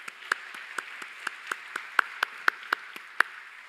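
A church congregation claps together in steady unison, about four even claps per second, crisp and close, with no other sound.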